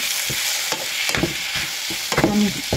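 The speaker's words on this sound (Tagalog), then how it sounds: "Ginisang kamatis." Tomatoes sauté in a hot pan, sizzling steadily and close up while a spatula scrapes and knocks against the pan in quick, uneven strokes.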